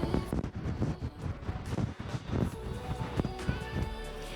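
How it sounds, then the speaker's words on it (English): Strong gusty gale-force wind in Cornwall buffeting the microphone with loud rumbling and roaring bursts, no voices. "it's blowing a proper gale"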